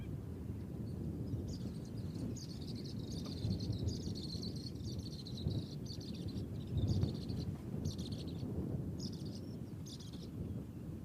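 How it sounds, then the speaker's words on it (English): White-fronted bee-eaters give soft chattering calls in a wild African setting, heard as bursts of high twittering over a steady insect and bird background. "That is your white-fronted bee-eater call."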